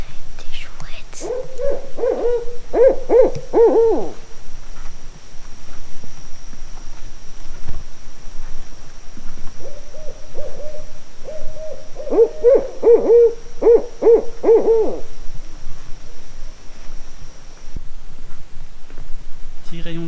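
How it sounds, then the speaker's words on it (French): Owls in the Everglades give two bouts of rhythmic, deep hooting, several hoots in each bout, heard clearly at moderate distance, with soft whispering voices nearby. "Ça doit être des chouettes."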